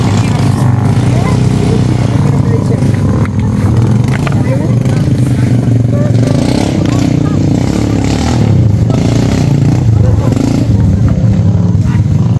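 A motorcycle taxi (ojek) rides a rough, remote rural road in Seko, South Sulawesi, its engine droning loud and close throughout with rattles and scrapes over the bumpy track.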